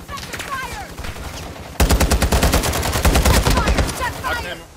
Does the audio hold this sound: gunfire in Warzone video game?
yes